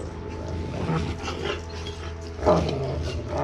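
Several dogs during a raw food pack feeding, with low growls and short whimpering yips close by, a brief louder snarl partway through, and a faint voice under the noise.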